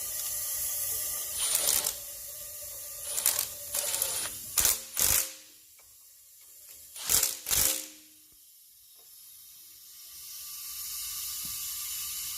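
Ratchet clicks while a gasket and block-off plate are tightened down on a 5.9 Cummins engine during a cylinder 5 leak-down test, coming in several short bursts of sharp clicking over a steady compressed-air hiss.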